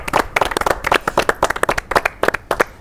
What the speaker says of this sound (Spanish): quiero pedir un aplauso por la productora y por la producción que logró traerlos a todos